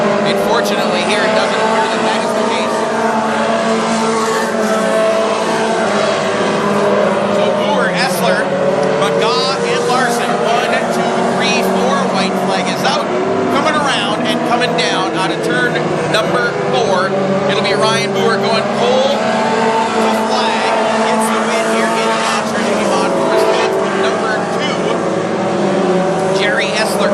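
WISSOTA modified race cars roar around a dirt speedway at North Central Speedway in a continuous dense engine drone that rises and falls as they pass, with an announcer talking over it throughout.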